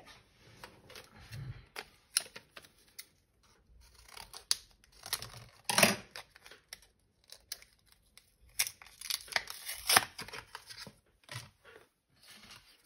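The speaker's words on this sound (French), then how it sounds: "on a juste à mettre le papier dans la lame. Et ça fait un effet déchiré." Paper fed through a distresser blade for scrapbooking, cutting it to give a clean torn edge, producing scattered snipping and tearing bursts, close and fairly quiet, with the sharpest strokes around the middle and near the end.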